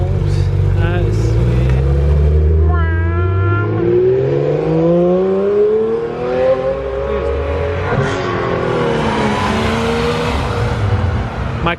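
Two Porsche GT3 RS sports car engines rev and rumble as the cars pull out at a cars and coffee meet, pitch rising and falling close by, with people talking over the noise.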